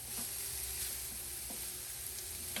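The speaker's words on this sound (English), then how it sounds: "we're just going to Saute it" Carrots sautéing in a pan for Persian shirin polo give off a brief, continuous, even sizzle at moderate loudness, with no voices over it.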